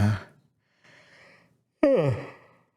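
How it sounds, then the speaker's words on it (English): A sleepy man yawns up close. Short breathy exhales come first, then a loud voiced yawn that slides downward in pitch and trails off into quiet. "there's a yawn. Because how sleepy I am."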